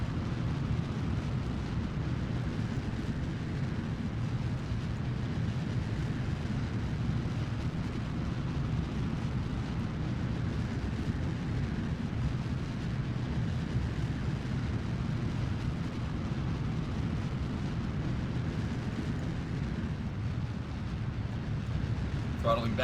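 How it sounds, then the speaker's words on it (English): A rocket booster ignites and lifts off in Kerbal Space Program, a continuous deep roaring rumble that stays steady and loud throughout. "Booster ignition."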